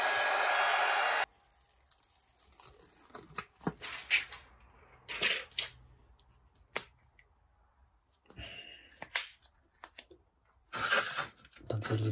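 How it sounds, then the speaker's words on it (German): An old hot-air heat gun, used while mounting a frameless licence plate holder on a Tesla, roars with a loud steady blowing rush for about a second. Then it cuts off, leaving quiet clicks and handling noises. "Die gute alte Heißluftpistole."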